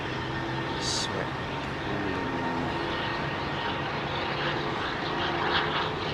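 Airliner at London Heathrow runway 27R, a continuous broad engine roar with steady rumble, fairly loud and sustained, with people chatting faintly over it.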